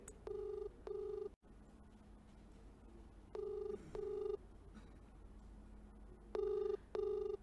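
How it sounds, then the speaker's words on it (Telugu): An outgoing phone call rings back in repeated double bursts, each pair of steady electronic tones followed by a pause, clear and fairly loud over a faint background hum. "నటి హేమ ఫోన్ రింగ్ అవుతుంది."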